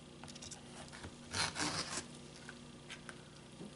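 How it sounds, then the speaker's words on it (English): A knife slices a garden vegetable in half to save its seeds. A short, close rasping cut stands out over a quiet background, followed by a few faint scrapes. "So we're just going to cut this in half."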